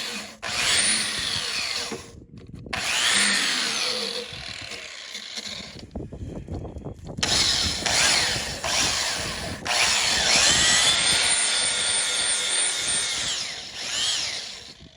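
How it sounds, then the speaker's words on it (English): An angle grinder works on rusty metal on the power traction hitch of an Oliver 5440 tractor plow; loud, harsh and continuous grinding fills the whole stretch, dipping briefly a few times as the tool is eased off and pressed back. "Don't want to grind off too much metal now."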